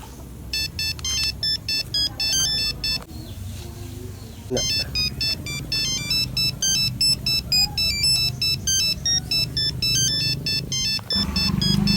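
Telephone ringtone of an outgoing call to a grain buyer, a repeated electronic ring pattern sounding in bursts under background ambience with a short gap, close and clear.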